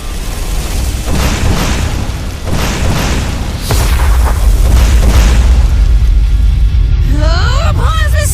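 A Fire Nova attack explosion effect, a series of heavy booms and rumbling blasts over several seconds building to a sustained roar, with a sweeping whooshing flourish near the end and voices heard briefly.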